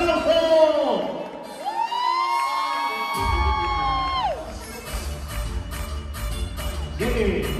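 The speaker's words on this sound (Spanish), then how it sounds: "Y vamos a dar un fuerte aplauso a las reinas de esta noche, Yanini y Carlita," A quinceañera crowd cheers for the two honored girls, with whoops and shouts rising over sweeping electronic tones and loud party noise, while voices call out throughout.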